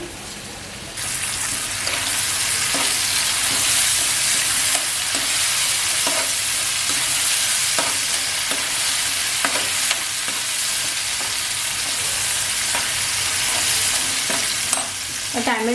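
Onion and tomato hit hot oil for a squid masala and sizzle loudly and steadily, close by, with occasional stirring clinks and scrapes in the pan.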